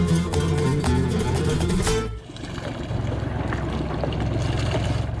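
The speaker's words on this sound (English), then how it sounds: "The engine's running." A sailboat's engine runs steadily with a low droning hum, close and fairly loud, changing character partway through as wind and water noise mix in.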